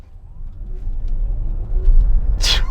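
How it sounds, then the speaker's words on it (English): An electric car floored from a stop on an empty road, a rising low rumble of hard acceleration with building road and wind noise, loud and close, ending in a sharp bright burst near the end. "Damn, this car is insane when it comes to acceleration."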